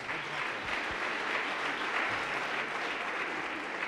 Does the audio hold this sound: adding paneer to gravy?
no